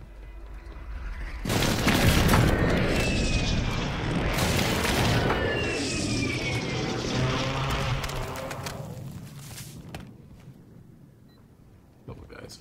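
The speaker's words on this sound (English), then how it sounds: "Friendly precision airstrike inbound." Precision airstrike in the shooter game Warzone on Rebirth Island: loud, continuous rumbling aircraft roar and booming explosions set in suddenly and sustain for several seconds, then slowly fade.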